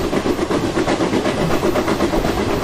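In the Open Rails train simulator, a passenger express hauled by a WAP4 electric locomotive rushes past at high speed, giving a steady, loud rolling rumble with faint clickety-clack and no talk.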